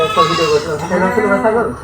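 Loud, close bleats of Totapuri goats on a farm in Ishwardi, Bangladesh, wavering and drawn out, following one another across the clip.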